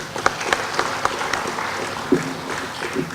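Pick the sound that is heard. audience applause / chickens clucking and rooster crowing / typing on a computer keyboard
audience applause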